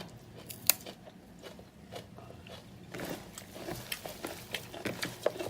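Someone bites and chews summer napa cabbage kimchi, with crisp crunching and wet chewing that grow busier and louder partway through, up close and without talk.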